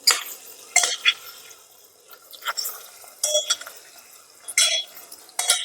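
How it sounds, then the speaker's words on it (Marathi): Tomatoes stirred into pulao masala in a pan for kaju paneer pulao, with scattered scraping and clinking strokes of a spoon coming in quick bursts between quiet gaps. "आता टोमॅटो ही व्यवस्थित आपल्याला मिक्स करून घ्यायचा आहे"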